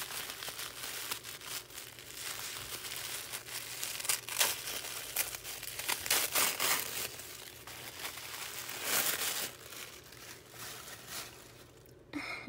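Red wrapping paper crinkles and tears steadily as a Christmas gift swap present is unwrapped, close and continuous, with denser rustling bursts and no talk.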